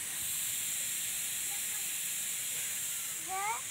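A pressure cooker vents steam in a loud, steady, unbroken hiss that fills the whole moment, close by, with a faint thin tone rising briefly near the end.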